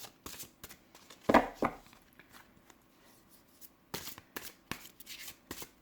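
Tarot cards shuffled and laid down, with a burst of riffling early on and several soft, brief card slaps and slides afterward, close and fairly quiet with no talking.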